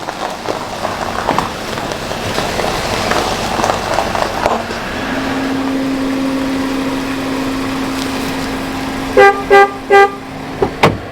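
Bus horn honking in a street with passing traffic, a sustained horn tone followed by a burst of several short loud toots near the end.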